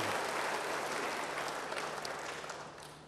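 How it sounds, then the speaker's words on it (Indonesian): A church congregation claps in praise: a faint, even wash of applause from many people, slowly dying away over a few seconds, with no voices on top. "Beri tepuk tangan bagi dia engkau yang percaya."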